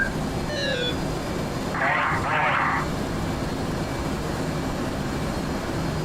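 A fixed-wing aircraft climbs away after takeoff as the wheels come up and the flaps go to auto, its engine roar a steady broadband drone in the cabin with a brief swell of whooshing noise near the middle.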